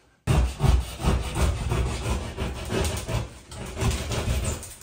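Saw cutting a circular hole through two layers of sheetrock, 1 1/8 inch thick in total, during a master bath remodel; close, loud rasping strokes in a steady rhythm, alone.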